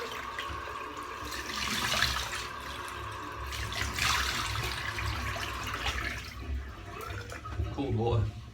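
Cold water runs from a bathroom tap for a post-shave rinse, a steady close hiss and splash that carries through the whole stretch with small surges and some handling noise.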